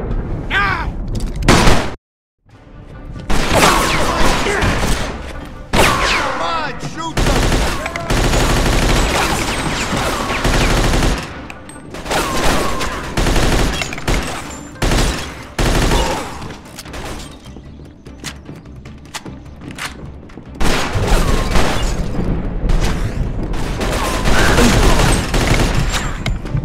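Gunfire in the Mafia II video game, loud sustained bursts of automatic weapon fire with dense overlapping shots and a short pause early on, continuing almost nonstop.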